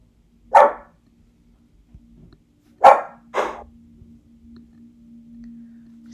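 A dog barks three times at a moderate distance: a single bark, then a pause, then a quick pair of barks. A steady low hum runs underneath.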